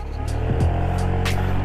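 A Honda Beat scooter engine revs up close by, a steady low drone with a rising pitch sweep, plus a few brief hissy bursts over the running engine.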